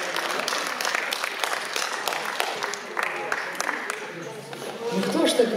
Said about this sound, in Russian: Ну кто ж так в Москве аплодирует?